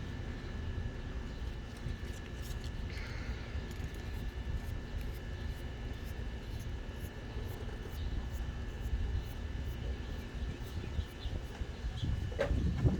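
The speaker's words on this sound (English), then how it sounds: "I don't know if you can hear the wind in the background." Low, steady rumbling wind noise runs throughout, a constant outdoor roar with faint distant tones, growing a little stronger near the end, on a windy morning in Indiana.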